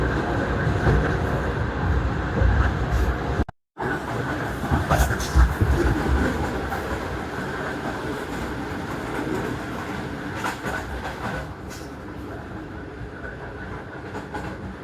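Shalimar Express passenger train running from Lahore to Multan past Shorkot station, a loud steady roar of wheels on rails with rhythmic clatter, one very brief dropout, and no talk.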